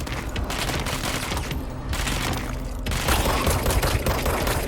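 Rapid gunfire from the shooter game Control, loud overlapping bursts of shots that continue almost without pause, with a brief thinner gap before heavier firing resumes.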